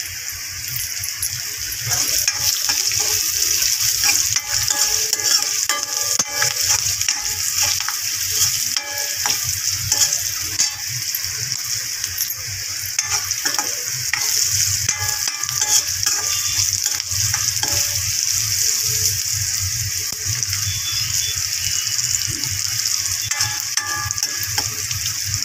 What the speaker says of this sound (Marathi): आता ह्याला मस्तपैकी फ्राय करणार आहे